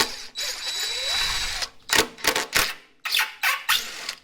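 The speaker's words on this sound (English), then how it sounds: "Take these two screws out." A cordless power drill backs screws out of a sheet-metal panel on an MTD Yard Machines snowblower, giving a steady whine followed by several short, loud bursts with gaps between them, close to the listener.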